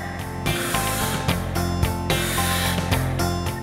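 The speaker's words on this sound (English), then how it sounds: "air coming from the tank, going through the tube into my mouth" Air from a firefighter's breathing apparatus tank hisses through the tube in close, loud bursts, rising and falling in a regular rhythm of inhales with brief gaps between them.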